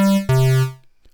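A square wave from the first oscillator of Logic's Retro Synth, a bright, buzzy held tone that jumps to a lower pitch partway through and then cuts off, leaving brief silence.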